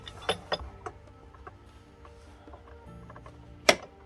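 A jam nut being tightened on an ATV wheel bearing assembly, heard close up as scattered metallic clicks and ratcheting taps, with one sharp clank near the end.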